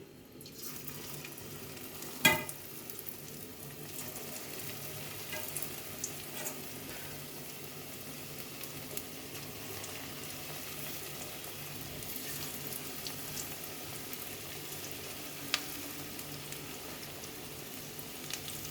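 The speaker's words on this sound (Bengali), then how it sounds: "এবার তেল গরম হয়ে গেছে দিয়ে দিচ্ছি" Sago pakoras frying in hot oil, a faint, steady sizzle and crackle throughout with one sharp clink early on and a few soft taps, quiet and distant-sounding.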